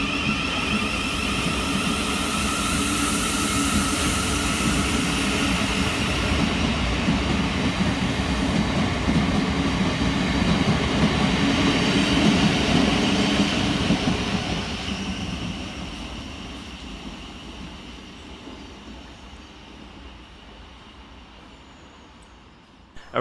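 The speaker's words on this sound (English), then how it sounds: "Next out to depart is 707-009 and 707-014, working the 1214 Southeastern service from London Charing Cross through to Hayes" Southeastern Class 707 electric units 707-009 and 707-014 pull out of a London-area station on the Hayes line, a loud steady rumble and whine that fades away in the final seconds.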